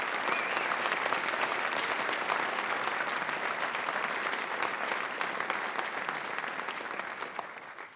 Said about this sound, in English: round of applause for this event.